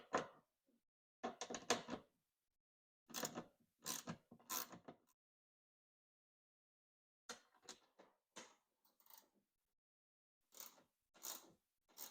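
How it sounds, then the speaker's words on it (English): Ratchet wrench backing out bolts on the trunk of a 2008 Infiniti FX35: short bursts of rapid clicking ratchet strokes separated by silent pauses, quiet and close. "we can go ahead and take these bolts off."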